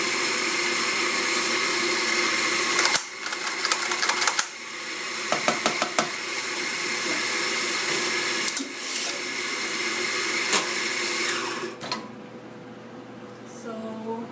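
An espresso coffee grinder in a cafe runs while its grind is set coarser, a steady whirring motor drone with brief rattling bursts as voices talk over it.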